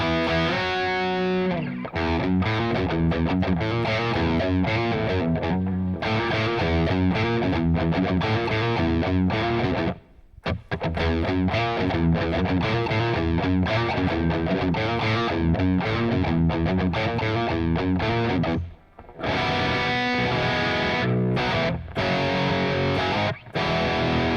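A heavily distorted electric guitar plays sustained chords and riffs for a long stretch, with two brief cut-offs where the sound drops out.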